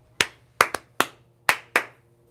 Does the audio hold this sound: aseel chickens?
no